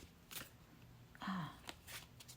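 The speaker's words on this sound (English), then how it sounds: "Again, we will be shuffling with intention." A tarot card deck is shuffled by hand in a quiet room, with soft riffling bursts and faint papery slides spread over a couple of seconds and no talking.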